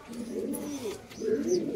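Fancy pigeons coo softly inside a loft, a low rolling murmur in two swelling phrases, close by with faint background hiss.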